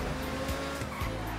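Racing car sliding through a turn in GTA V, engine roaring steadily with a continuous tire squeal and scrub across the whole moment, a couple of brief bumps or thuds mixed in.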